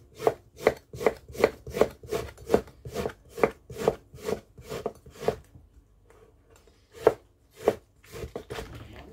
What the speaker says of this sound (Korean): 천천히 얇게 곱게 썰어서 갈면 됩니다